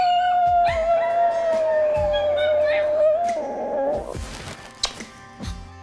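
A dog howls in one long sustained wavering note, then gives a few short yips and whimpers, close and fairly loud with faint background noise.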